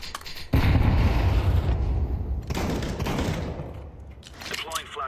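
Video game grenade explosion: a sudden loud blast kicks in after a brief pause, then a long rumbling roar with debris that slowly fades, followed by a second burst near the end.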